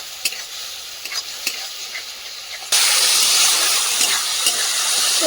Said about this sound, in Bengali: ভালো করে এটা দিয়ে কষিয়ে নেব।